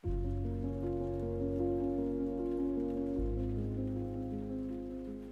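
Steady rain patters beneath soft, sustained music chords that shift once midway and slowly fade.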